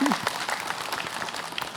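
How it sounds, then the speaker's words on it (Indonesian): Brief applause from an Islamic study gathering audience for a woman guest, a short burst of mixed clapping with a voice briefly heard at the start. "Tepuk tangannya buat Ibu Lilis"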